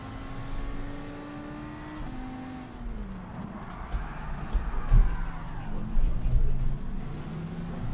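A Lamborghini race car engine in Gran Turismo 7, racing at Le Mans, drones with a steady whine whose pitch slides down through gear changes, then swells into louder revving as other cars roar nearby.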